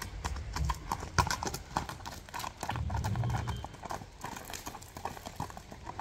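Hooves clip-clop in a steady, close rhythm on hard ground, with a faint snort or two and no talking.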